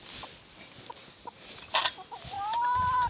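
Hens cluck in short bursts nearby, with a louder squawk midway and a thin rising whistle-like tone near the end, over quiet farmyard background.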